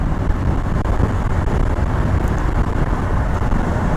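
A Honda Nighthawk 650 shaft-drive motorcycle cruising on the road, its quiet, smooth engine hum buried under a steady roar of wind and road noise, with no voices.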